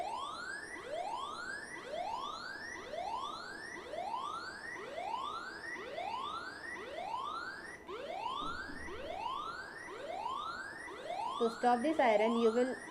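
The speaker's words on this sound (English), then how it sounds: "in this way the siren will play" A phone's anti-theft siren alarm wails loudly in repeated rising electronic sweeps, about one per second, steady and insistent, with a brief burst of another tone near the end.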